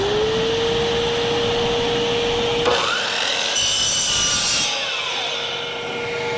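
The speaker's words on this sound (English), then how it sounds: "I got it set up for 18 inches here to cut the aluminum slats" A power saw cuts aluminum slats to length for a folding work table, giving a loud sustained whine that shifts in pitch as the blade bites, then a brief harsh burst and a winding-down hum, with no talking.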